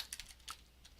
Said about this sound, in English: And then I'll type